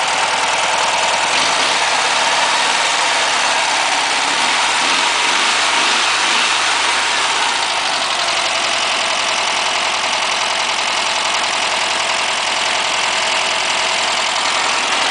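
An air-cooled Volkswagen Beetle engine idles steadily and smoothly on all four cylinders, a loud close rumble with a brief low throb in the first seconds, running alone without voices.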